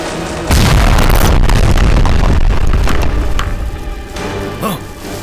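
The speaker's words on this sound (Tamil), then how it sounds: "சண்டிமாதேவி வெடித்து சிதறிவிட்டாள்." A loud explosion bursts out after a brief lead-in and roars on as a sustained rumbling blast in a Tamil television drama scene, with debris-like crackle and booming low end filling the rest of the clip.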